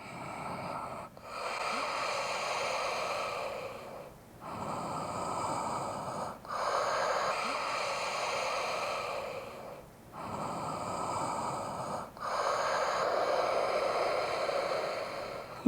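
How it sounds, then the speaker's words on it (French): Steady cycles of audible breathing during a downward dog pose in a vinyasa yoga class, with long noisy inhales and exhales repeating about every two to three seconds, close and fairly loud, no talking. "En chien de tête en bas, prenez quelques respirations ici."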